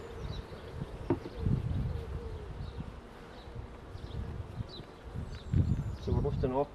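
Honeybees in a National hive drone in a constant buzz while the hive is inspected and frames are lifted out. Voices talk over it, and bumps and knocks from handling the hive equipment break in now and then.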